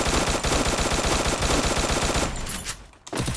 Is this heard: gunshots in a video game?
yes